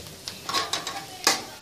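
Chana dal and peanuts being fried in a pan, with soft scraping stirs and clinks of a spatula against the pan over a low sizzle, coming in irregular close strokes.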